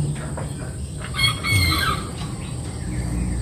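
A Serama chicken crows nearby with a short, high strained call, amid soft clucking and background hum.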